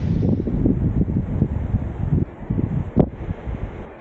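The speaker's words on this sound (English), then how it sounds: "Very windy." Strong wind buffets the microphone in continuous gusty roars at a roadside stop during a BMW 1200GS motorcycle ride, with no talking.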